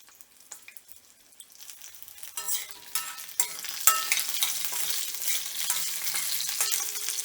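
Curry base toasting in a pan for fish curry, starting with faint stirring scrapes, then building into a steady, close sizzle and crackle of frying with occasional stirring clatter.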